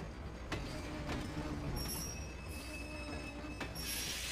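A train in Kingdom Hearts II rolls along with high metallic wheel squeals and sharp periodic clicks over a steady low rumble, heard at moderate level with no talking.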